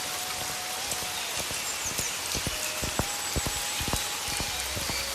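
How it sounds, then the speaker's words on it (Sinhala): Heavy rain in a cartoon sound effect, a dense steady hiss of downpour with sharp drops and splashes striking a surface, continuing unbroken. "එක පාරටම හයියෙන් වහින්න පටන් ගත්තා."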